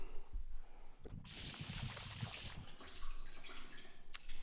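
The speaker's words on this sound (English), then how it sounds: "so second hit is applied of the APC. Let's rinse it off." Water sprays onto a car to rinse off all-purpose cleaner, a brief rushing hiss of spray flanked by quieter drips and splashes nearby.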